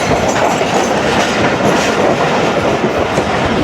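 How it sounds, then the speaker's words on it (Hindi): The Awam Express passenger train rolls past at Kotri outer in Sindh, a loud steady rumble of wheels and carriages with a dense rushing clatter filling the whole stretch. "कोटरी आउटर पे मुलाकात हुई है हमारी 13 अवाम एक्सप्रेस से"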